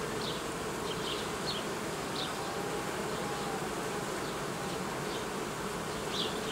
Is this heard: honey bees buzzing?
yes